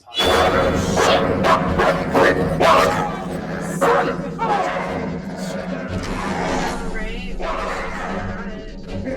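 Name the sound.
dogs barking in video game Until Dawn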